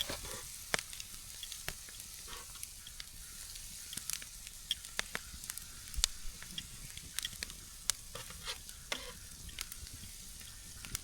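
Bacon sizzles and spits on a grill over a campfire outdoors, a steady close crackling hiss dotted with sharp popping fat bursts throughout.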